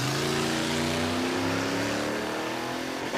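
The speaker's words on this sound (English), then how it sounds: "Oh, he's on the rev limiter." A car engine sits at high revs and bounces off the rev limiter, a loud, sustained buzzing drone with rising harmonics, staged on the handbrake during an off-road outing.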